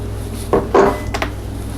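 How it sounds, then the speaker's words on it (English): A spoon stirs chili powder and ground cinnamon into simmering pumpkin soup in a pot, giving a few close, brief clinks and scrapes against the pot over a quiet background. "And then stir it all together."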